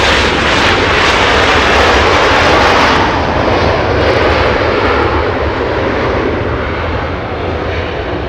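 Loud, steady jet engine roar from airliners taxiing at Los Angeles International Airport, a continuous broadband rumble that eases slightly toward the end, with no voices.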